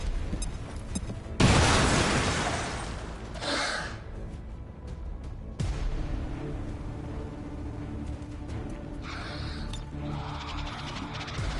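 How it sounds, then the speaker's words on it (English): A frag grenade goes off in XCOM 2, heard as a loud booming blast with a roaring, noisy burst, followed by further rumbling impacts and debris over a background game score. "Frag out!"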